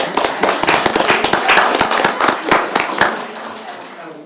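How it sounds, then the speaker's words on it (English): An audience at a city commission meeting claps together, a dense burst of sharp handclaps that carries on for several seconds and then thins out toward the end. "Can you clap for that?"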